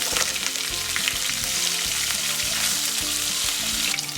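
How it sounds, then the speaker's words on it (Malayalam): Dried red chillies, chopped ginger-garlic and green chillies fry in hot oil for a chicken curry, a dense, continuous crackling sizzle that stays loud and close throughout with occasional stirring knocks. "അതിലേക്ക് നമ്മൾ 2 വറ്റൽമുളക് ഇട്ട് കൊടുക്കാം"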